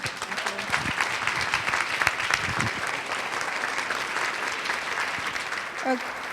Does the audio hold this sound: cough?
no